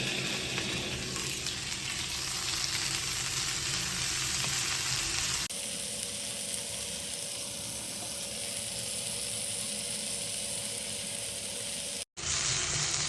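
Sliced onions fry and sizzle in a pan for a spicy beef roast. The hiss is steady and close throughout, with a brief break near the end and no talking.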